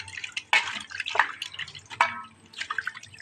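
A cleaned conch-shell bangle is rinsed under water, producing short close splashes and trickling drips in a few brief bursts, with no talking.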